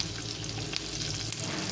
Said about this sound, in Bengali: প্রথমে রসুন কুচিটা দিয়ে দিলাম, তারপরে এখানে এই যে লঙ্কাটা ছিল,